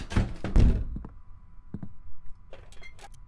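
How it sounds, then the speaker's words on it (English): A door shutting followed by loud pounding in the horror video game Knock Knock: a heavy thump and knocks early on, then a few fainter knocks and clicks, no talking. "I heard a door shut and then big old pounding."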